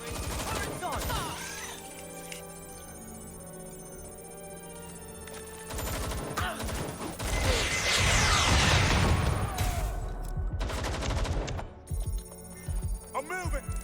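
Automated turret gunfire in Watch Dogs: Legion, dense bursts of rapid shots building to a loud, sustained volley mid-clip amid game sounds and shouting voices.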